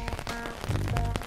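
A brief cartoon-style rain sound effect: a quick burst of busy pattering drops with tonal layers, close and fairly loud, with no voices.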